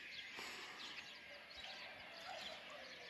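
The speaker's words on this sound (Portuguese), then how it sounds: "Ouçam só o nascer do sol e os passarinhos aqui a cantar." Small birds singing at sunrise on Graciosa island in late May, faint chirps and trills scattered through a soft outdoor hiss, distant and quiet throughout.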